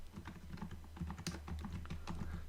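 Computer keyboard arrow keys pressed during Excel data entry, a rapid run of close, light clicking taps at an uneven rhythm, alone without talk.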